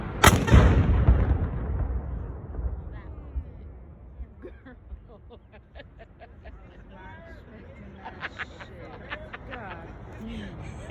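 A ceremonial cannon at the Ohio Statehouse fires one loud, deep boom at the start that rolls away slowly, followed by crowd chatter and voices nearby.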